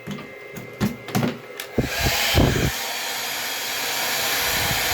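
A hair dryer starts with a few clicks and short bursts, then settles on its second speed into a steady, loud whooshing hum that runs continuously to the end.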